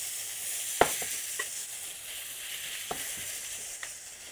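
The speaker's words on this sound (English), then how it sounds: "Oh, you can hear that sizzle." Mushrooms sizzle steadily in hot oil in a pan, a continuous frying hiss with a few sharper crackles and pops scattered throughout.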